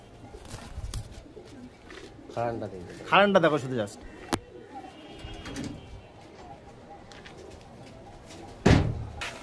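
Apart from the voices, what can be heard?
Malbai pigeons cooing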